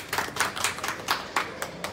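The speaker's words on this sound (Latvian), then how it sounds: "Aplausi." An audience at a Coral Club Gold 4 Gold 2021 event in Egypt claps in a loose rhythm of fairly close, distinct hand claps that come in uneven bursts.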